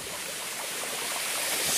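A thin trickle of water in a mountain stream at Copina, Córdoba, in Argentina's Altas Cumbres: a steady, hissing wash of flowing water that swells slightly toward the end, close and continuous, with no voices.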